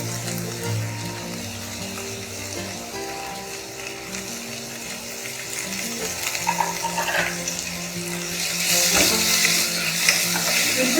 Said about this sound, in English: We'll just saute it for a minute.